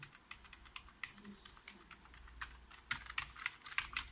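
Typing on a Mosunx Yuin T6 USB mechanical gaming keyboard with soft keys, a fairly close, quiet run of irregular key clicks and clacks that grows denser and louder near the end.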